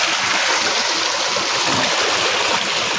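A fresh water stream on a farm flows and rushes steadily, with a dense, continuous broadband splashing close by and no pauses.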